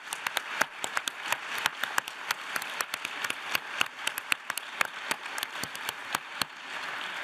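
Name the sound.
audience applause for homemade time machine builders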